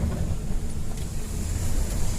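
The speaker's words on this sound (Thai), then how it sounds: "ลมแรงมากนะครับ ฝนตก" Strong storm wind with heavy rain on a roadside in Chanthaburi, Thailand, where trees have fallen across the road; a steady, close roar of gusting wind buffets the microphone under a dense rushing wash, with no talking.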